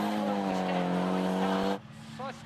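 A drift car slides through a corner at the D1SL Maze event, engine wailing at high revs before cutting off sharply, followed by a brief tire squeal.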